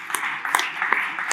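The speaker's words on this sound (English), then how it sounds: "Give him a round of applause." Audience applause at a panel discussion for Dr. Stephen Capobianco, scattered claps rising over a background hum, moderate in level and fairly close.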